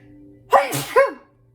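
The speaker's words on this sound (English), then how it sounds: "I feel like I have to sneeze" One close sneeze in two quick bursts, a sharp intake followed by an explosive release, then quiet.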